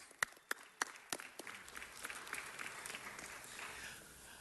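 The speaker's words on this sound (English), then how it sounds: "Let's give them a round of applause." At a city council meeting, a few scattered claps quickly grow into soft, steady audience applause, heard at a distance.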